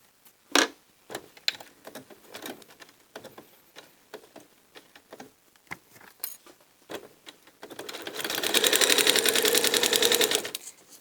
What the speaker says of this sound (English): I'm going to sew to this point right here.